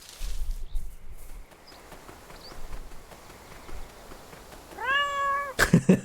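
A video game cat lets out one clear, close meow with a rising-falling pitch near the end, preceded by quiet ambient game noise and faint soft steps, followed by a few sharp thuds.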